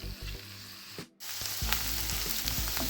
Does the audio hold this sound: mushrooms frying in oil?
yes